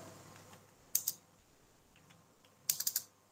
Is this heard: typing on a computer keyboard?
yes